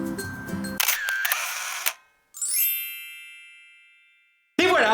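A camera shutter clicks to take a photo, a brief sharp mechanical snap amid handling noise, followed by a bright ringing chime that slowly fades out before another burst of sound at the end.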